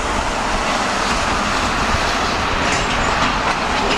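A train rolls past close by, a loud, steady rumble with rail clatter that fills the whole stretch without pause.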